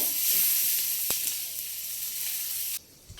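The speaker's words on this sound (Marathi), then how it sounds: "ते तेल तापलं की त्यात थोडा आपण कांदा घालूया आणि तो कांदा थोडासा परतून घेऊया।" Onion frying in hot oil gives a steady, close sizzle for most of the clip, with a short clatter near one second, before the sizzle drops away sharply toward the end.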